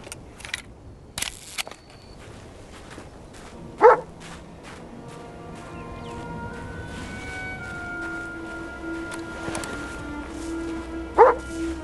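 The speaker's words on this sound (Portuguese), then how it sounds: "Olha o cachorro bugado." A dog barks and yips in Indiana Jones and the Great Circle near a Nazi base, a few sharp scattered barks over a steady game ambience and soft music.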